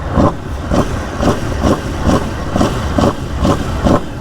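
A 2021-23 Aprilia RSV4 motorcycle fitted with an SC Project CR-T exhaust is revved in a series of about eight quick, evenly spaced throttle blips. Each burst is loud and close, with no talking.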